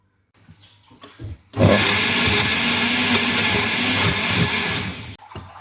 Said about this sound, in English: I'm gonna put the mango in my blender.